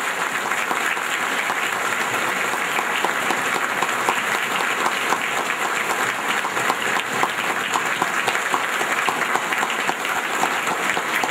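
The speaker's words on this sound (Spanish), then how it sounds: "Un aplauso fuerte para ellos." A Catholic Mass congregation on Ascension Sunday applauds the mothers with sustained, dense clapping that fills the church steadily for over ten seconds.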